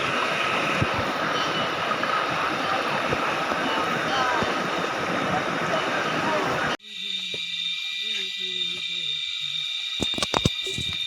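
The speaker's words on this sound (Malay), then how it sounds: "nikmati keindahan alam dan juga suasana air terjun" Mountain stream and waterfall at Sungai Segitiga on Gunung Ledang, a steady broadband rush of water that cuts off abruptly partway through, leaving quieter forest ambience with faint tonal sounds.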